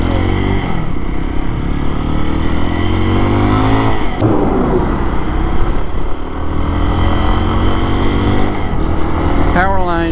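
Road traffic passes outside a home in a steady stream, engines and tires rising and fading at mid distance, with a voice talking over the vehicle noise throughout.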